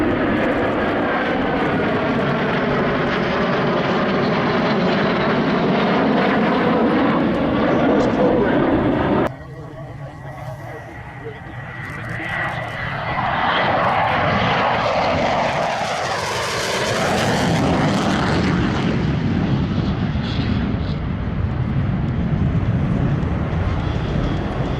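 A jet airplane roars past at the Oshkosh airshow, loud and sustained, with a sweeping pitch change as it passes overhead, then a second rising roar from another pass.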